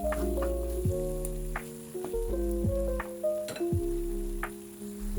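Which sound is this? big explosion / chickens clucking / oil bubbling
oil bubbling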